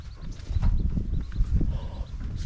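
Horses moving nearby in rural El Tejon, Michoacán, Mexico, with soft hoof clops and shuffling steps amid low outdoor rumble and faint background chatter.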